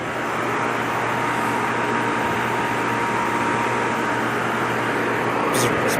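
A replacement HVAC condenser and evaporator unit, just fitted with a new filter dryer, runs with a steady broadband mechanical drone and low hum, constant and close, with a brief higher rattle near the end.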